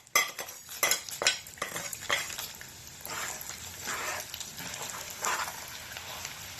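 Mung dal frying in a little oil in a pan, stirred with repeated utensil scrapes over a soft, steady sizzle, close and moderately loud with no talking.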